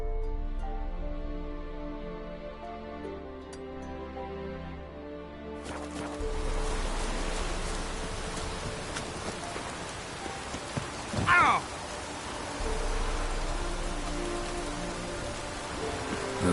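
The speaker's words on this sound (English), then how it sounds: "Looks like rain." Rain falls steadily in The Witcher 3: Wild Hunt, a soft wash of drops that picks up after the first few seconds, with music tones fading out beforehand and a brief rumble midway.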